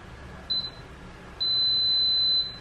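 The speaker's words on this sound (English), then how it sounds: "so it's just this final beep" Electronic beeps from a kitchen appliance making jam: one short beep followed by a long sustained beep, clear and high-pitched over a quiet background.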